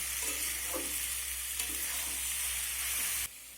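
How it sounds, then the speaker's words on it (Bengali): Vegetables and noodles stir-fry in hot oil over a high gas flame, giving a loud, steady sizzle with soft stirring scrapes throughout that cuts off abruptly near the end. "এখন আমি এই সবজি আর নুডলসগুলো এই তেলের মধ্যে দিয়ে দেব এবার একটু নাড়াচাড়া করে নেব"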